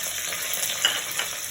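Sliced onions and green chilies fry in a pan with a continuous bright sizzle and crackle, steady and close, with no one talking.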